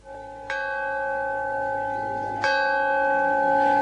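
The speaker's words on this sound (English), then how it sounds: "An old piece of train rail serves as the church bell." An old length of train rail, hung as the bell of a rural South African church, is struck twice, each blow a bright metallic clang that rings on with a long, sustained shimmer.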